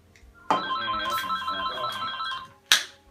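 An electronic telephone ringtone trills steadily for about two seconds at close range in a room where people have been drinking, then a second ring bursts out briefly after a short gap.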